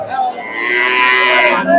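A cow moos loudly and close at a cattle market selling Jersey, Friesian and crossbred cows, one long drawn-out call with no talking.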